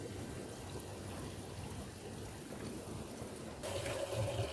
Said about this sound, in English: And so this water, it's called Água do Padre José.